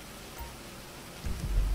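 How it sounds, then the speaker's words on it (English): Steady rain hisses throughout in GTA 5, with a low rumbling thump joining toward the end. "It's still raining out here."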